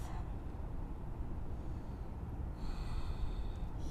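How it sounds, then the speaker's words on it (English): Steady, close breath noise of Ujjayi breathing during a yoga flow in downward facing dog, a continuous airy rush that swells slightly louder toward the end with no talking. "Here you can do Ujjayi breathing and listen to the sound of your breath"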